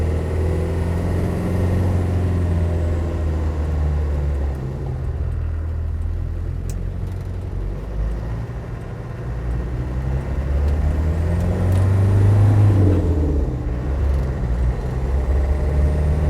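A classic Land Rover Defender 90 soft top with a turbo engine drives along as its driver downshifts, its engine a steady low rumble that swells and falls with the gear change, loud and close throughout.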